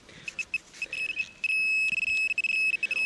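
High electronic tone from a metal detector sweeping over a dug plug in a farm field, sounding in short repeated beeps that then hold as a steady ringing signal, clear and close.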